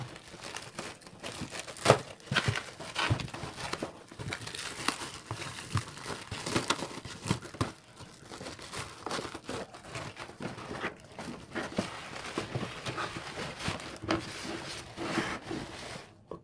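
Plastic packaging around a cordless drill being torn open and crumpled, irregular crinkling and ripping bursts close up, moderately loud and continuous, with no talking.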